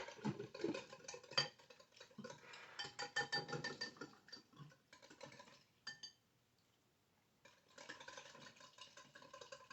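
A whisk beats and stirs in a bowl with quick scraping, tapping strokes, loud at first, then pausing briefly near the end before resuming, with no talking over it.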